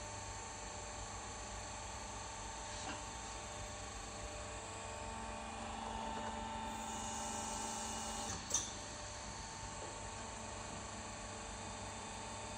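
A hydraulic press working a metal louvre hums steadily and faintly, with a motor whine and a single sharp click near the end, no voices.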